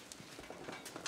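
Soft hoof clip-clops of a horse at a stable, a few irregular muffled knocks over a faint background hum, fairly quiet and without voices.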